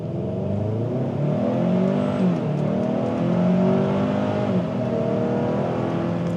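A 2025 Hyundai Santa Cruz Limited AWD engine pulls in sport mode, a steady droning hum heard from inside the cabin that rises and swells slightly in pitch, continuous with no talking.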